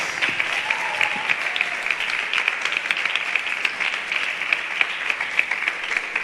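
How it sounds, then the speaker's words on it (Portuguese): An audience gives a round of applause for the pastors, steady dense clapping at moderate loudness throughout without a break. "uma salva de palmas para os nossos pastores"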